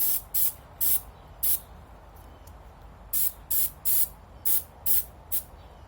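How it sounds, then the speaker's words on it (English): Short hissing bursts from a spray can applying a light coating to the pins of a Savage/Fox Model B shotgun, about ten quick puffs in two clusters separated by a pause, close and crisp over a quiet background. "So real simple, you just spray it on, real light."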